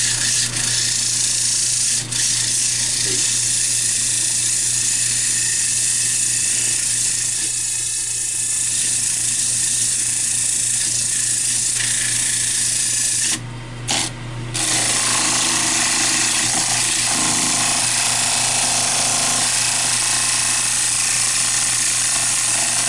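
Hard maple crotch wood being sanded on a lathe, a loud continuous abrasive whir and hiss at close range that runs steadily throughout with a few brief dips.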